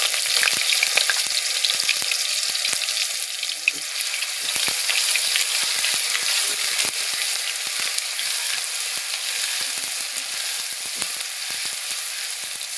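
Ginger paste fries in hot oil over low heat, giving a steady, close sizzle with scattered crackles and pops. The sound holds evenly throughout with no voices.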